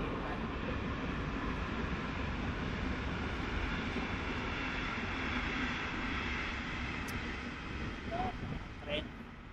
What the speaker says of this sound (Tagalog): may train na dumadaan